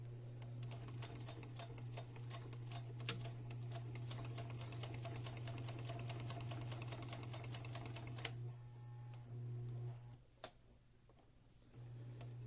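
A sewing machine stitches a seam through several layers of fabric on a split face mask for musicians, running at a fast, even ticking rhythm close by, then slowing and stopping near the end.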